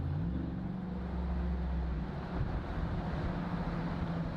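A deep, steady exhaust drone rumbles continuously from a straight-piped car cruising along, loud and low-pitched with a constant boomy hum.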